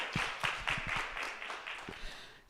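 Audience at a comedy show clapping hands in a steady burst of scattered claps, a mix of sharp individual hits and fuller group applause, moderately close and continuous throughout.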